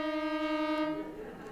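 A brief sustained violin unison played out of tune, with a slightly wavering, sour pitch, fading after about a second; fairly quiet, no speech.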